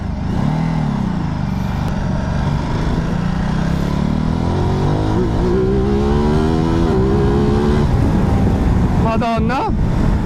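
A V2 motorcycle engine revs and climbs in pitch as it accelerates, loud and close, with a throaty rumble throughout and a quick shift near the end.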